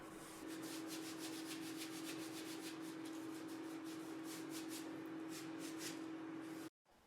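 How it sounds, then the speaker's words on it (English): Wooden handmade gift being buffed after a coat of food-safe badger wax: steady close rubbing and brushing with a constant hum underneath, continuous for several seconds before stopping abruptly. "Brush on, leave to dry and buff off."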